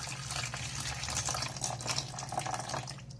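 Tea poured from a kettle with no butter coating the spout, a steady close liquid stream running for about three seconds and thinning toward the end as it dribbles and clings to the tip.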